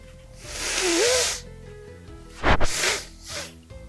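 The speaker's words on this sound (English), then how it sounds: "Oh, I gotta sneeze." A single sharp sneeze, close to the microphone, follows a long breathy, hissing intake, with a few softer puffs of breath afterward.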